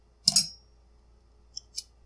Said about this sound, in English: Nothing should fly out, just need to push the pin out